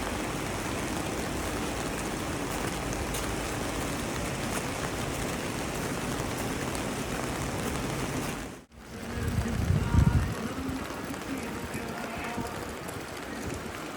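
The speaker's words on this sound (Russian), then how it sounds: "Вот такая дождливая погода в Розе Хутор 16 числа" Steady rain falls in the Rosa Khutor mountains, a dense continuous hiss that briefly cuts out and then returns with a louder low rumble before settling back to an even patter.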